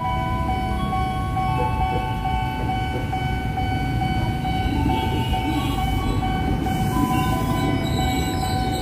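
A KRL commuter train rolls steadily through a Jakarta station, its wheels and carriages giving a loud continuous rumble with drawn-out metallic squeals and tonal whines above, running alone without talk throughout.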